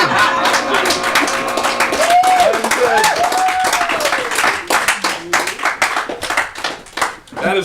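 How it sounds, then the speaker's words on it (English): Audience members at an improv comedy show clap steadily, a dense patter of handclaps that thins and fades toward the end, with voices talking over the start. "Let's give him another round of applause"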